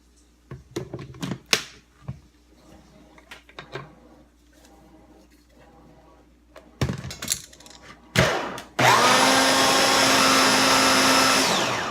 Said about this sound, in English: you want to blend it so obviously it's smooth